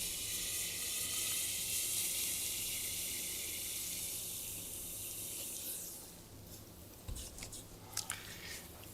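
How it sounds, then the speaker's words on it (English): Liquid nitrogen pours onto a superconductor in a steady hissing, rushing stream that fills the first six seconds, then thins out into a few sharp splashes and sputters near the end. "We pour liquid nitrogen on it to take it below its critical temperature."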